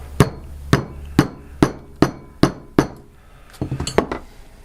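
Metal hammer pounding the end of a fishing pole putter shaft: about eight sharp, evenly spaced strikes, then a quicker cluster of lighter taps, loud and close, with no talking.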